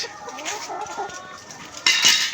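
Several layer chickens cluck and chatter nearby in short overlapping calls at a poultry farm, with a sharper squawk near the end.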